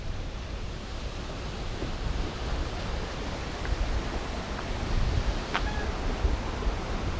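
Water rushing over a dam spillway on the C&O Canal, a dense continuous roar of white noise, steady and fairly close, with faint gusts of wind.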